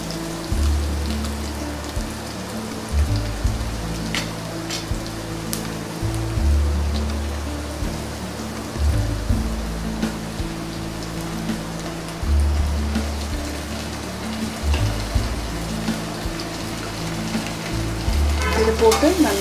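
Onions and ginger garlic paste frying in a pan for vegetable biryani, a loud continuous crackling sizzle with a low rumble underneath and occasional stirring, close by and without talk.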